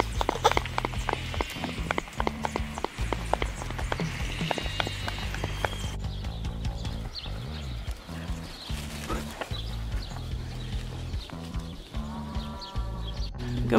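Horse hooves clop on grass in an uneven, unhurried rhythm, moderately close on a New Zealand lifestyle block, with faint rustling and background noise.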